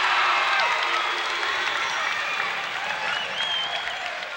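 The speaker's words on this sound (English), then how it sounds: "The crowd is really cheering Butch on, giving him some encouragement to make his second attempt." A basketball crowd at a 1989 Valdosta State versus Troy State college game roars and cheers continuously, a broad sustained wash of voices and clapping filling the arena.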